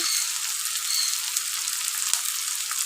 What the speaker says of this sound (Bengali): এটা একটু ভাজা হওয়া পর্যন্ত আমি অপেক্ষা করব